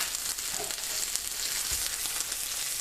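Paninis with shredded cheese sizzling steadily in a hot pan, a constant close crackle with a soft clunk or two of handling, no talking.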